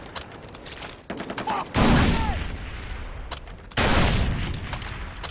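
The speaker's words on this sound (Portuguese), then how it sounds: "Olha, mandaram para cá granadas também" Grenade blasts and gunfire in the shooter game Far Cry 3 during an outpost fight: a dense crackling volley, then two heavy, loud booming bursts that rumble on before fading.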